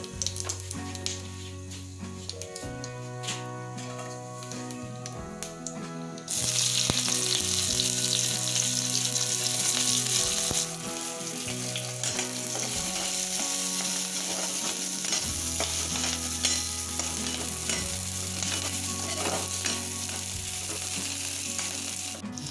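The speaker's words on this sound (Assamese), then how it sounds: "তেলখিনি গৰম হৈ গৈছে, এতিয়া পাঁচফোৰণখিনি ইয়াতে দি দিম" Panch phoron five-spice seeds sizzle in hot pork fat in a pan for a pork and roselle leaf curry, a steady, close frying hiss that grows louder about a third of the way through and stays dense to the end.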